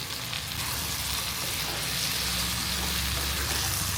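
Local chicken meat frying in hot oil for a chicken curry, a steady dense sizzle that stays loud and close throughout with no pauses and no talking.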